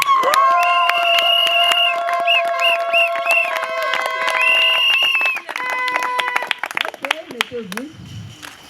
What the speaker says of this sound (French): Applaudissez pour le couple.